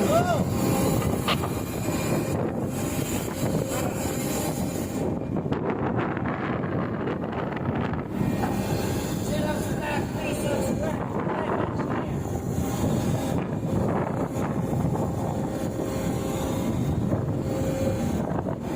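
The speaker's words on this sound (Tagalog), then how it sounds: "Okay, malaking alon." A ship at sea rolls through big waves in strong wind, with a constant heavy rush of wind buffeting the microphone over deep, churning water and a low mechanical hum, and a voice speaking faintly at times.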